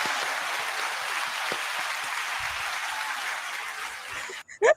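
An audience at an informal talk on women's rights applauds steadily for several seconds, a soft, even patter of many hands, followed by a couple of short bumps at the end.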